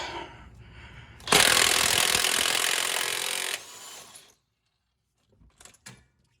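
A power tool, likely an impact gun, hammers at the crank bolt of an Acura engine in a loud rattling burst of about two seconds, then winds down and stops, followed by a few light knocks.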